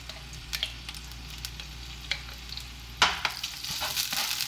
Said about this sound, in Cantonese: 我就會爆香1湯匙嘅薑蓉